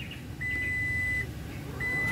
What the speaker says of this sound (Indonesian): Tahan dan tekan sampai bunyi bip 4 kali.